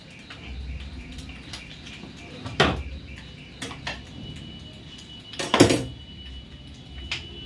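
In a home kitchen, dishes and pots are set aside for washing: a few clattering knocks and clinks, two of them louder, over a constant room background with faint chirps.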